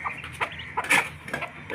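A hen with chicks clucks in short bursts close by, a few quick sharp calls with brief scuffling between them, no voices.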